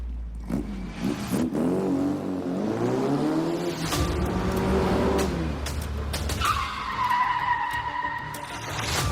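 A car revs hard and its tires squeal in long skids during a race challenge. The engine rises and falls close by, with sharp bursts near the end and no talk.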